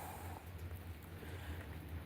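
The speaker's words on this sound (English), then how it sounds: "it's really windy, and it's already raining." Steady wind gusting and rain falling outdoors in the dark as a storm approaches, a constant low rumble of blustery air with a hiss over it, no talk.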